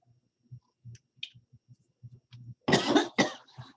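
A lecturer coughs after water goes down the wrong way, several quiet throat clicks and clearing sounds leading into two or three loud, harsh coughs close to the microphone.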